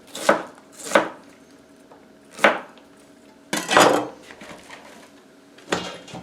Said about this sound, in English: by cutting it crosswise, you get very thin strips, and it falls apart